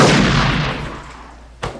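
A single sharp gunshot sound effect from a film bursts out near the end, loud and abrupt, following a fading wash of prior noise.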